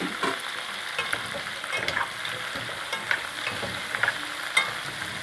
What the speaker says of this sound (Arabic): نحط قرن الفلفل اهو، قرن فلفل، ده قرن فلفل بارد على ربع حامي